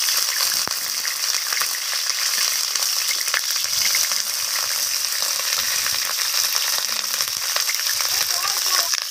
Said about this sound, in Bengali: প্রথমে আমি কেটে রাখা ফুলকপিগুলোকে তেলের মধ্যে দিয়ে দিলাম।